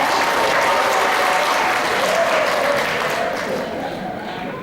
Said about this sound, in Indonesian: Tepuk tangan untuk pemeriksa muda